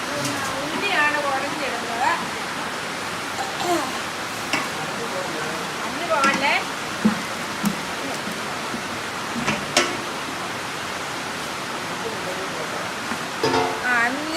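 Steady rain hisses as a constant wash of noise while people talk intermittently over it.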